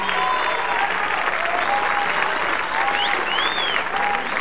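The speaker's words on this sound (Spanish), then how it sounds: "¡Un aplauso fuerte!" Loud, steady applause from a television studio audience on a 1996 variety talk show, with cheering and whistles rising over a mariachi band.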